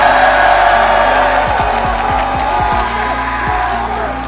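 Esports arena crowd at the Atlanta Major grand final, a loud continuous roar of cheering and shouting that fills the space, with faint talk mixed in.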